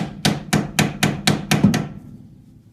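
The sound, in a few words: hammering a chisel into a GM hub assembly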